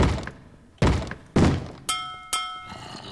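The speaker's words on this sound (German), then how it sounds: "Klopf, klopf!" Several heavy wooden knocks on a door in the video game Minecraft, about five hollow thunks spaced roughly half a second apart, loud and close with no voices over them.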